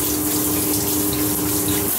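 Shower water running steadily in a constant, close hiss with a faint hum underneath, heard alone with no pauses.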